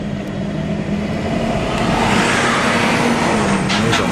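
A whole line of trucks, many pulling double trailers, rolls along a hilly highway, a steady loud roar of engines and tyre noise with no break.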